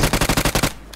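A rapid burst of about seven close gunshots in BGMI, a loud, evenly spaced automatic string that stops abruptly, followed by a faint single shot afterward.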